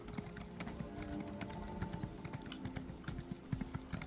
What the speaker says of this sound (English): Oh, this horse is so painfully slow, it makes me want to cry a little.